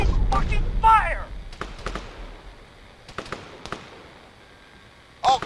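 Gunfire crackles in the military video game Arma 3, scattered sharp shots and short bursts at middling distance, with shouted voices over the combat.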